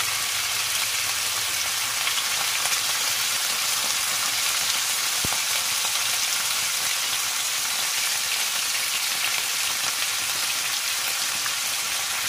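Chicken pieces frying in a pan for chicken afritada, a continuous bright sizzle and crackle of hot oil holding steady and close, with no talking.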